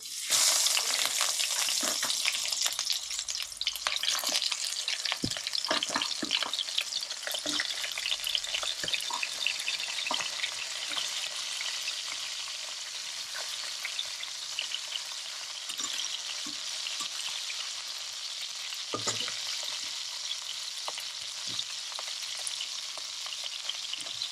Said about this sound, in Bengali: এগুলো একটু ভালোভাবে ভেজে নেব আমি।